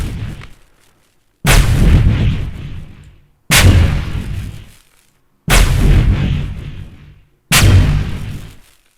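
Designed gunshots processed with a flanger chorus effect fire as four heavy, booming blasts at regular intervals, each with a long swirling decaying tail and silence between them.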